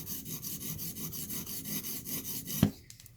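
Chipped, wire-damaged work knife edge being repaired and reprofiled, with rhythmic rasping strokes against a sharpening stone at close range, about four strokes per second, ending in a sharp knock.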